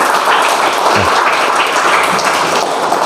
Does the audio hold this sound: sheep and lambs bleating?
no